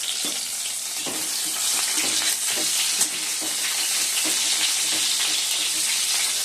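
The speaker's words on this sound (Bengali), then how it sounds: "চিকেন নিয়ে চিকেনগুলো ভেজে নিচ্ছি" Chicken pieces fry loudly in a hot pan for a home chicken curry, giving a steady dense sizzle with occasional spatters and stirring clinks, close and continuous throughout.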